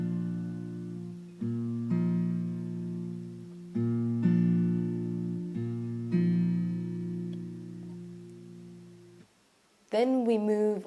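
Acoustic guitar strums sections of a song in slow, ringing chords, clear and close, with a brief higher strum at the end.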